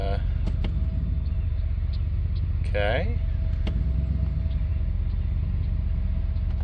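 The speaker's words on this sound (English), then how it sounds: "Truck's rolling back." A tow truck rolls back with its engine running in a low, steady rumble inside the cab, while someone speaks a word partway through.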